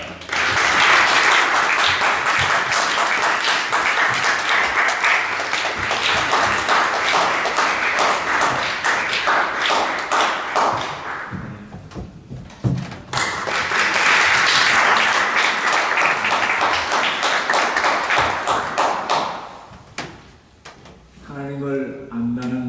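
A church congregation at a Sunday service applauds loudly and continuously for about ten seconds, pauses briefly, then breaks into a second long burst of clapping before it fades.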